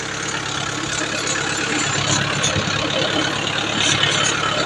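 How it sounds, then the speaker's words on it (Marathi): A tractor engine runs steadily at idle with a seed drill hitched behind, a dense, continuous rumble that stays loud and close throughout with no speech over it. "मी पेरणी यंत्रावर बसलेलो आहे आणि ट्रॅक्टर चालू आहे"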